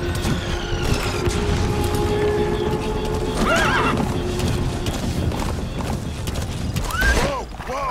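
A horse in Metal Gear Solid 5: The Phantom Pain gives loud whinnies over steady clip-clop of hooves, with game sound effects and background noise throughout.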